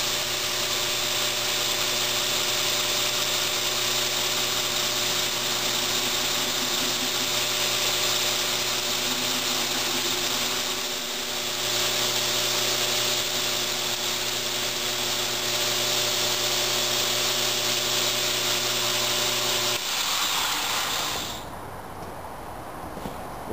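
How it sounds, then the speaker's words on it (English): A belt grinder shapes the taper on the handle of a forged EDC knife, giving a loud, continuous abrasive whine with steady hum that runs for about twenty seconds before cutting out. "I'm going to go ahead and grind along my layout line so I get the taper of"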